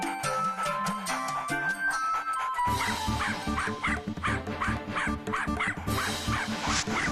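Sheru, a cartoon dog, gives a run of repeated yipping barks while sniffing out a bomb, set against busy, rhythmic background music.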